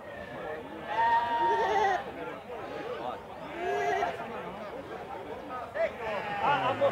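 Several goats bleat repeatedly amid a crowd of murmuring voices at a goat and sheep market in Campina Grande, Brazil, the wavering cries rising and falling at moderate distance.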